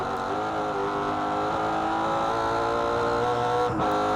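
Onboard engine of a V8 Supercar Commodore racing at Oran Park in 2007, a loud, steady, close-miked drone with dense harmonics and a brief gear change near the end.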